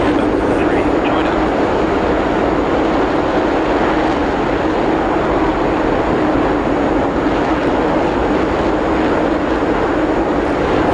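Steady, loud engine roar of an aircraft flying in the flight simulator DCS, a continuous broadband drone holding level for the whole stretch with no break.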